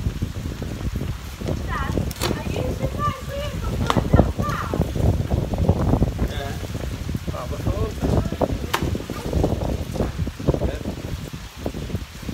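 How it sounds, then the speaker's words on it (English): Wind buffets the microphone beside the water at a magnet fishing meet, a continuous rough rumble and gusting roar lasting throughout, with people talking intermittently over it. "Have to bear with us with the wind."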